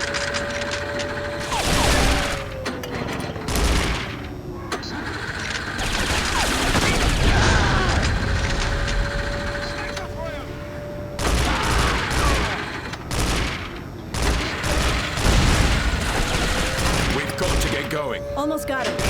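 Gunfire in the James Bond 007: Nightfire video game, loud repeated bursts of shots with engine and mechanical noise between them, mixed with game sound effects and occasional speech.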